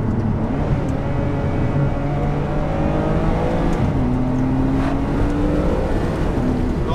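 Outside the car, a Ferrari 599 HGTE's engine and exhaust hum continuously, with pitch climbing through the revs and shifting midway, loud and steady with no talk.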